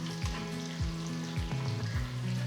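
Oil sizzles and crackles steadily as mustard seeds, cumin and lentils fry close by, with repeated low knocks of a spoon stirring the pan.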